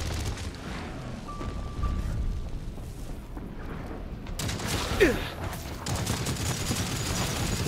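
Light machine gun fire in the shooter game Synced during a PvE boss fight, a dense rattling fusillade with booms and mechanical clatter, steady and close throughout, no talking.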